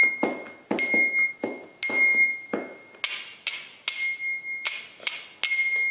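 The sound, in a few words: kartal hand cymbals tapped and ringing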